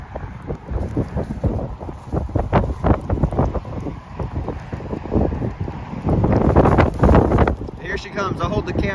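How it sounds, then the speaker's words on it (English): Strong gusts of wind buffet the microphone in loud, irregular bursts, roaring and crackling continuously beside a railway track in Justin, Texas, with a voice faintly beneath. "we're getting hit with big wind gusts"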